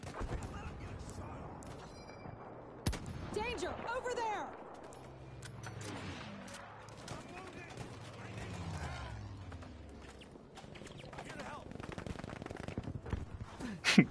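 Gunfire in a shooter video game: sharp shots and short bursts scattered through the stretch, some louder near the end, with players talking and shouting over the game sounds.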